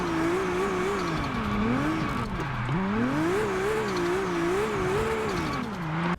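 A 2000-horsepower drift car in Car Parking Multiplayer 2, its engine revving up and down in continuous sweeping waves, loud and close throughout.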